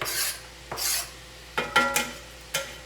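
Three garlic cloves are tossed into a hot pan for jambalaya, giving a few short scraping and sizzling bursts, about five separate stirs and clatters spaced over a couple of seconds.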